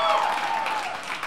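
Audience applause in a church service, sustained clapping from a crowd that fills the whole moment and fades only slightly.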